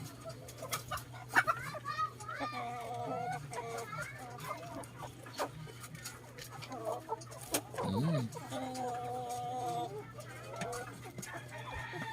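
Silkie and native ulikba mix chickens cluck repeatedly at feeding time in a backyard, their short calls scattered close by over a low steady hum, while someone talks intermittently.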